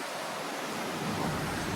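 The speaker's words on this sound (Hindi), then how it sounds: "पानी की आवाज़ सुन रहे हैं आप सब?" Sea water rushes past below a cruise ship balcony as a continuous, even wash of noise, with no one speaking.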